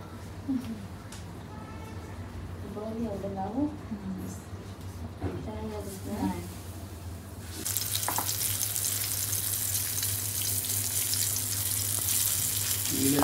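Pomfret and surmai fish frying in a pan give a broad, steady sizzle that swells loudly partway through, with a low hum underneath and voices chatting over the first half.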